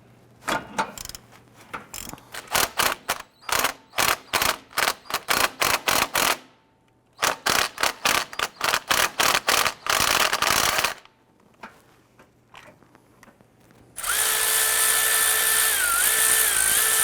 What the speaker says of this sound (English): Use our 17mm socket with our swivel